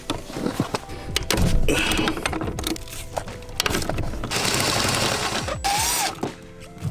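A ratchet wrench works two 12 mm bolts loose from the clutch master cylinder of an Acura, close mechanical clicking and rattling bursts with metallic clinks and short pauses, no speech.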